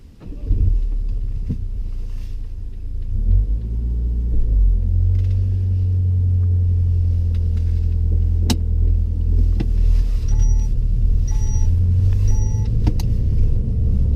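A car pulls away during a mock driving test in Derby, a steady low engine rumble holding close and continuous with a few faint clicks and short tones over it, no voices.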